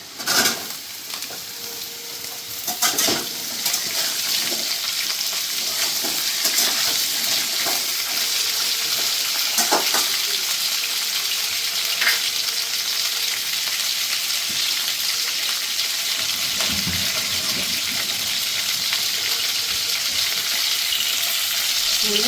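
Yardlong beans, pumpkin and pointed gourd go one by one into a hot pan of oil, sizzling and frying steadily throughout, with occasional clatters and stirring knocks and brief watery hisses as the vegetables hit the pan.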